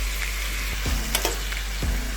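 Onions, tomatoes and a pinch of turmeric sauté in a pan for Kumbakonam kadappa, giving a steady low sizzle broken by a few sharp clinks and scrapes of stirring.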